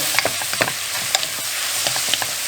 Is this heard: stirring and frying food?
yes